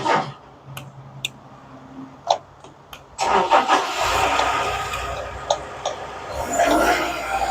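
Small engine on a machine with a gas pedal cranks after a few clicks and knocks, then catches and runs with a rough, rising mid-pitched drone, close and fairly loud with no talk.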